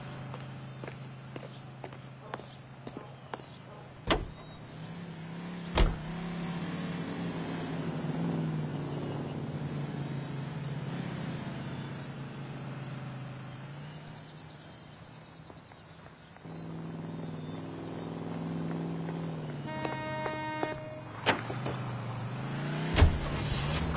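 Car driving in the video game L.A. Noire, a low steady engine hum throughout, broken by a few sharp thumps and clicks, with some faint tonal beeps partway.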